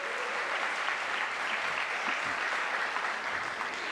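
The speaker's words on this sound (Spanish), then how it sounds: "Vamos a recibir con un caluroso aplauso al doctor Juan Luis Hernández" Audience at a lecture on geopolitics greets a speaker with sustained, dense applause, an even wash of many clapping hands throughout with no talk.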